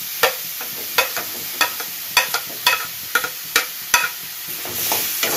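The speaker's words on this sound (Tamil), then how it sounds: "ரெண்டு தக்காளி கட் பண்ணி வச்சுருக்கதை நல்லா போட்டு வதக்கணும்" Chopped tomatoes sautéing with ginger and garlic for egg curry, with a soft steady sizzle and a series of sharp spoon scrapes and knocks against the pan roughly every half second, close up with no talking.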